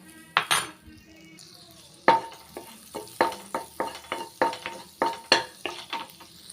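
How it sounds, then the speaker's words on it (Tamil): Butter sizzles in a hot kadai, a soft frying hiss that runs beneath a series of sharp metal scrapes and taps as it is stirred. "கடாய் வந்து நல்லா ஹீட் ஆயிடுச்சுங்க கொஞ்சமாக பட்டர் சேர்த்துக்கிறேன்"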